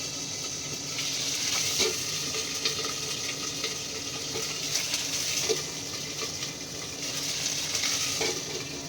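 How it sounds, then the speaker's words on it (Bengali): Cauliflower curry frying in spattering oil under a lid, a dense continuous sizzle and crackle heard close and steady with no voices. "তেলটা তো খুব জোর ফাটবে সেই জন্যে চাপা দিয়ে দিলাম"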